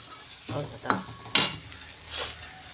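Onions are stirred in a frying pan, tempered with mustard seeds, urad dal, ginger, garlic, curry leaves, dried red chillies, coriander powder and turmeric for paniyaram. A faint sizzle runs under a few close scrapes of the spoon against the pan.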